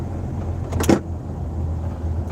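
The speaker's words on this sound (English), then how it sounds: "me switching the air thing over from recycled to outside air" A brief mechanical click and whir of a vehicle's ventilation control switching over, heard once against a steady low cabin engine hum.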